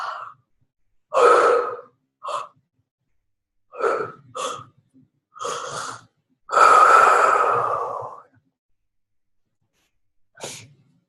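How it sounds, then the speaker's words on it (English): A person takes a series of deep, audible breaths during a breathing exercise, with several short inhales and exhales and one long drawn-out exhale, close and with no talking. "we're going to release that now with our deep breaths"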